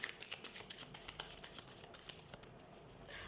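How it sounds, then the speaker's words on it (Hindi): Oracle cards shuffled by hand in a steady run of quick papery riffles and soft slaps, close and fairly quiet, with no talk over it. "तो let's shuffle the cards and let's see."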